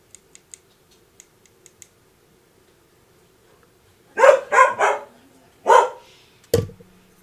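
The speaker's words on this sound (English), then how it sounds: "That's the Belgian Malinois." A Belgian Malinois dog gives a burst of four or five loud, close barks in quick succession, after a few faint ticking clicks in an otherwise quiet room.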